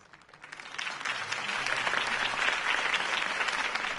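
A crowd's applause after a campaign speech for a city election, starting soft and swelling within the first second into sustained, dense clapping that holds steady to the end.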